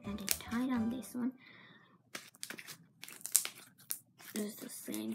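Crunchy slime mixed with Tide is squished and pressed by hand, giving close, soft crackling and crinkling bursts alternating with short pauses, with a quiet voice speaking over part of it.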